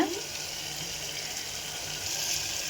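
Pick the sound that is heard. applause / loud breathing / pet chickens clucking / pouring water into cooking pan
pouring water into cooking pan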